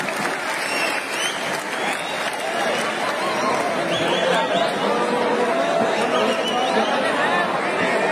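A large crowd at a Labour Party rally claps continuously and loudly, mixed with crowd chatter, a steady wash of applause throughout.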